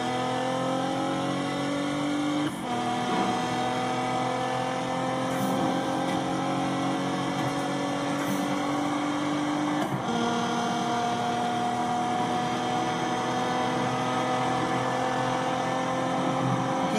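A Nissan GT-R accelerates hard at high speed, its engine note climbing steadily through the gears with two sharp shift breaks, loud and continuous with wind and road roar beneath.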